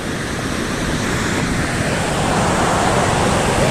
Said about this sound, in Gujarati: પાણીનો ખૂબ અવાજ આવે છે